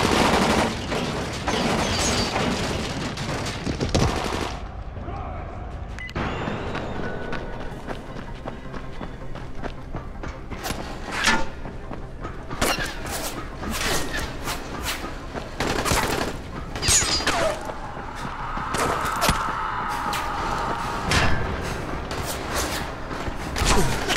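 Gunfire in the game Dying Light comes as scattered sharp shots and short bursts spread through busy action noise, with thumps and brief voices mixed in.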